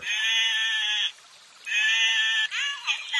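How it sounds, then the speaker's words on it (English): Two long, loud sheep bleats close by with a short pause between, followed by a shorter wavering bleat. "Sheep."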